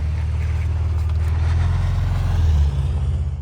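2024 Ford Ranger Raptor pickup with a 405-horsepower engine and 10-speed automatic, a loud low engine drone with a steady throbbing pulse that rises slightly in pitch, then cuts off toward the end.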